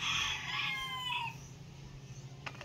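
A chicken gives a loud, close crowing call that fades out after about a second, followed by quieter background noise and a faint click near the end.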